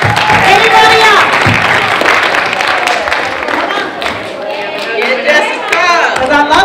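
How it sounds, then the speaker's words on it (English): Applause and cheering for a student speaker at a high school youth empowerment forum, a dense crowd of claps mixed with chatter and excited voices, loud and close throughout. "Give him another round of applause"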